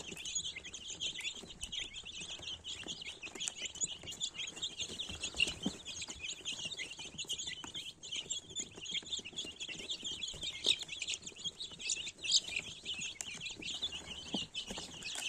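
Young laying-hen chicks sitting in a box under a heat lamp keep up a continuous chorus of high, overlapping peeps and chirps, steady and close by with no pauses.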